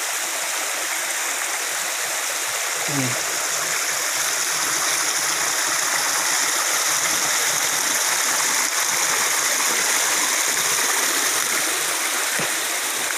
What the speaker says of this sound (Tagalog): Kung kuan kusog ang tubig, mas natay waterfalls dire